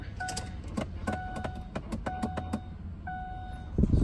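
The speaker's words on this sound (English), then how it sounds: "we hear a clicking noise coming from the dashboard" Rapid, sharp clicking repeats in uneven bursts from the dashboard of a 2008-2009 Ford Taurus, from a faulty air door actuator, with faint electronic beeps over a steady low engine hum.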